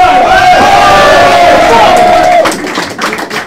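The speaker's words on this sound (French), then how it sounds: "alors faites du bruit pour Dominique Le Bar" A loud crowd at a battle event roars and shouts together, with a sustained yell trailing off into scattered clapping and cheers.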